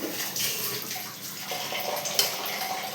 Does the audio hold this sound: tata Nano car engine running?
no